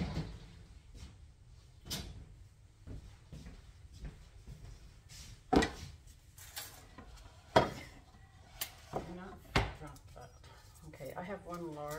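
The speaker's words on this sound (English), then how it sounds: "take a clove of garlic and mince it to put in here" A knife mincing a clove of garlic on a cutting board: irregular taps and knocks, some sharp and louder, spaced through the clip with quiet gaps, close by, with some handling noise.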